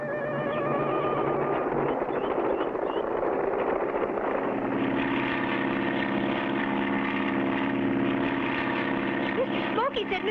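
A small propeller airplane flies in a cartoon; a continuous droning engine hum runs throughout, shifting pitch midway, with a brief whistling sweep near the end.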